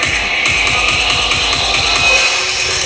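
Death step drop bass from a remix of a track, a dense, loud, distorted wall of synth bass with a steady pulsing wobble rhythm running throughout, no voices.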